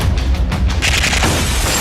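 Loud, dense booms and crashing blasts from the action film Pathaan roll over one another in a continuous barrage, heavy and close, with no voices.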